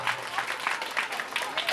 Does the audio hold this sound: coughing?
no